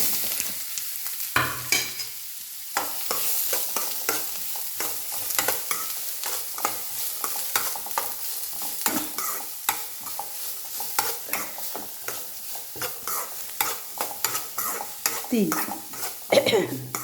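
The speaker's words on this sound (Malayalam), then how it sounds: "ഇനി നമുക്ക് കടുക് ഇട്ട് കൊടുക്കാം, മുളക് ഇട്ട്." Mustard seeds and dried chilies frying in hot oil while making beetroot thoran, giving a steady crackling sizzle with scattered pops and spoon stirring, close and moderately loud throughout with no speech.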